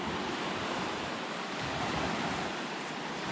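Waves washing onto a sandy public beach at Tropea, Italy, a continuous broad surf roar with some wind, steady and fairly soft.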